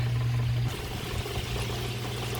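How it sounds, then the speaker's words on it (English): Water running back into a DIY 55-gallon koi pond filter after the pump is switched on, a steady close pouring and trickling flow with a low hum, no talking. "here comes the water starting to come back up"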